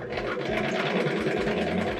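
Continuous close-up whir of a sewing machine quilting slippery fabric with a long stitch length, a fast even chatter of the needle running without pause.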